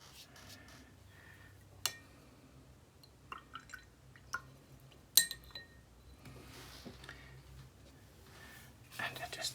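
A watercolor brush swished and rinsed in a water jar gives sparse, quiet drips and sharp glassy clinks, scattered irregularly over near silence, with faint talking in places.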